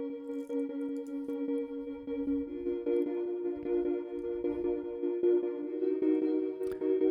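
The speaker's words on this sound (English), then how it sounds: "there's another pad that I introduced" A soft Omnisphere synth pad layered into a pop ballad arrangement, holding steady sustained chords with a gentle pulsing shimmer, quiet and alone, shifting to a new chord partway through.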